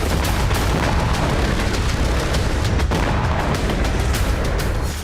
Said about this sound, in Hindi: सेंट्रल गाजा में इजरायल ने उस इमारत को उड़ा दिया जहां से हमास के लड़ाके हमले कर रहे थे